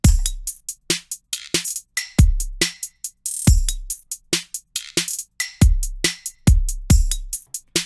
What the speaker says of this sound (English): And we get hi-hats that sound like this.